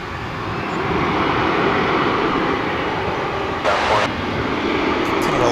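A passenger plane from Houston Intercontinental arrives on the east side of DFW airport, a loud continuous engine roar and rushing drone heard from a distance, steady throughout with a brief bump of brighter noise.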